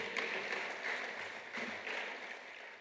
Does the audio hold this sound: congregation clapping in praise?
yes